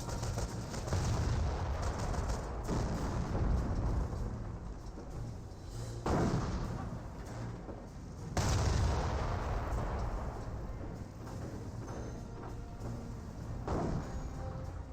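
Mortar fire in the video game Company of Heroes: deep, booming blasts with rumbling tails, the biggest near the start, around 6 seconds and around 8.5 seconds, over a constant low battlefield din.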